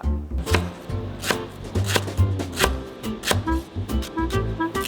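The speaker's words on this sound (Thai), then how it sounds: "การหั่นเครื่องต้มยำนะครับ สำหรับเมนูนี้เนี่ย ผมจะซอยให้มันเล็กหน่อย" A knife finely slices tom yum herbs on a cutting board, giving quick, irregular, close taps and knocks in steady bursts with no talking.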